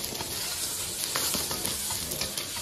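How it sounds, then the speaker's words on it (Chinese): Ham sausage, scallion and ginger sizzle in a hot wok with oil, a dense continuous frying hiss with faint stirring scrapes, close and steady, no talk. "把配料火腿肠葱姜下锅"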